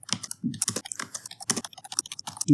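Typing C code on a computer keyboard: rapid, irregular keystroke clicks close to the microphone, ending in a heavier thump.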